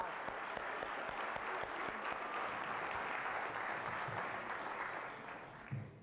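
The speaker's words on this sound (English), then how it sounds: "Let's give the brothers and sisters with God Collective a big round of applause." An audience at a community lecture event in Toronto applauds with steady, dense clapping that holds for several seconds before tapering off.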